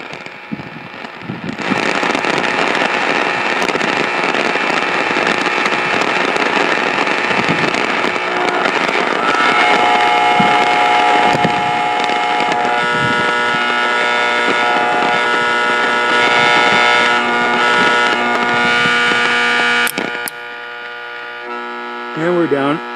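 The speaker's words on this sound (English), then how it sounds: "Power line blast." Power line interference on an open wire line receiver: a loud, continuous buzzing hum of 60-cycle mains and its harmonics, steady and dense for about eighteen seconds before cutting off near the end.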